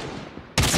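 A burst of sniper gunfire in the mobile shooter game Call of Duty Mobile, a sudden loud crack cutting in after a brief stretch of muffled game ambience.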